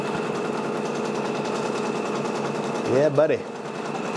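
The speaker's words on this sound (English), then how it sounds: "now the machine is going to start stitching it out" A Brother PRS 100 embroidery machine stitches a patch, a steady rapid mechanical clatter running throughout, with a person speaking briefly over it near the end.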